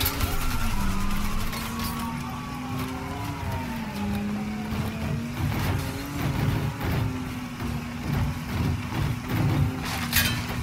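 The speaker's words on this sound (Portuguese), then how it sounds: "Onde é que brotou esse carro?" A car in the Mafia 3 video game drives up, its engine droning loud and close with shifting pitch and some tire noise over a steady game backdrop.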